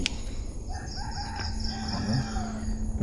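A chicken clucks a few times at moderate distance amid faint outdoor ambience in Bukit Brown Cemetery, with no talking.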